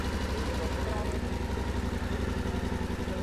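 Motorcycle engine idling with a steady low throbbing pulse and faint clatter, close and continuous, heard through a helmet-mounted lavalier microphone with a fur windshield.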